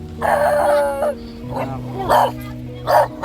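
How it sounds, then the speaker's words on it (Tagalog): Several dogs bark and whimper nearby in short yips and whines, coming in separate bursts with pauses between them, while a person talks over part of it. "andyan pa rin yung mga aso mo"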